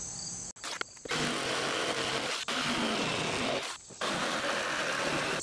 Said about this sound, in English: I'm going to take the jigsaw and kind of rough that out a little bit more.